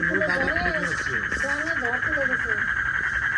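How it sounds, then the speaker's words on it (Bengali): Frogs croak loudly at night in a rural riverside setting, a dense continuous chorus with overlapping rhythmic calls close by, while a voice and other vocal sounds rise over it. "এই ব্যাঙের ডাকে ত্রিহান ভয়ে কাঁদছে।"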